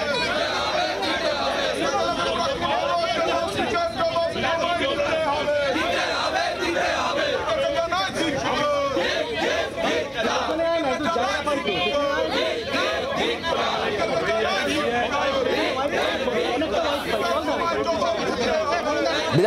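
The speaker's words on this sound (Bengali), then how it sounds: "বিধানসভায় গেটের সামনে বসে কালো কাপড় নেড়ে একটানা স্লোগানিং বিক্ষোভ" BJP legislators sit at the West Bengal Assembly gate waving black cloth and chanting slogans in protest, a dense, unbroken wall of crowd voices that stays loud and close throughout.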